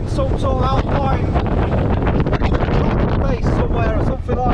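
Strong, gusting wind roars across the exposed gritstone of Stanage Edge in the Peak District, buffeting the microphone loudly and continuously, with a voice calling out briefly beneath the blustery rush.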